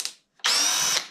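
A Greenworks power drill spins up on its fast speed setting, giving a short, loud, high-pitched whine of about half a second that stops abruptly, with a faint click just before it.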